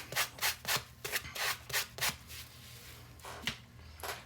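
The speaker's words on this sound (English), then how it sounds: "Sometimes I won't even sand them this much." Earrings are sanded with quick rhythmic rubbing strokes, about a dozen short scratchy passes in bursts, close and moderately quiet with brief pauses between them.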